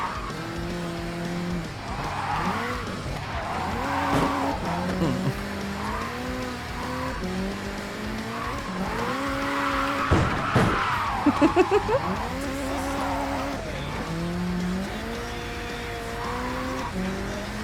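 A car in a drifting video game revs through repeated gear changes, its engine rising and falling over and over while tires squeal in long skids, loud and close throughout.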